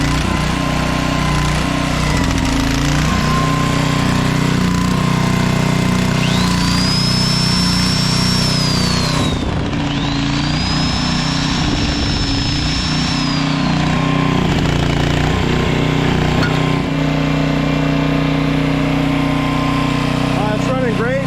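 A late-1990s Honda Harmony lawn mower engine runs steadily at half choke, a loud, continuous buzzing drone with a thin whistling whine rising above it partway through, holding constant from start to finish.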